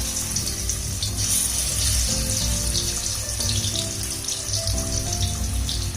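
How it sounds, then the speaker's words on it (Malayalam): Marinated chicken legs frying in hot coconut oil in an iron wok, a steady close hiss and crackle of oil running throughout, with a low background hum underneath. "നമ്മൾ മസാല പറ്റി വെച്ചിരിക്കുന്ന നമ്മുടെ ചിക്കൻ കാല് നമുക്ക് ഇതിനകത്തുനിന്ന് ഇപ്പൊ നല്ലപോലെ നമുക്ക് ഫ്രൈ ചെയ്തെടുക്കാം"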